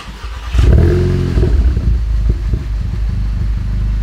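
A Volkswagen GTI engine cranks and fires up after an oil change, with a loud burst at startup that settles into a steady running rumble.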